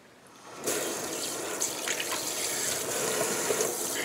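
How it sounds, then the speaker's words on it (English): Tap water streams steadily into a sink during face washing, switching on abruptly and then running as a close, continuous splashing hiss with small splatters, and nobody speaks. "There's no pretty way to wash your face on YouTube."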